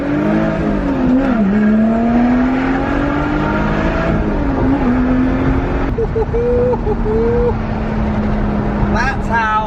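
A Lotus Exige V6 S accelerates onto a motorway, the engine note rising steadily through the gears, loud and close from inside the cabin, with people talking over it.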